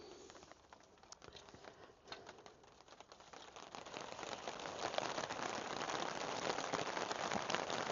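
Rain drums on a greenhouse roof in a dense, crackling patter of countless drops. It starts lighter and builds to a louder, steadier downpour close overhead, with no voices.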